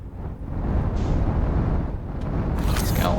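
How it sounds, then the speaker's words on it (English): The scout launcher firing in Outer Wilds: a loud, sustained roaring rumble that swells in the first half second and stays heavy throughout, with a brief airy hiss near the end. No one speaks. "Scout launcher."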